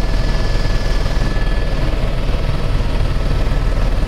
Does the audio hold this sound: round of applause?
no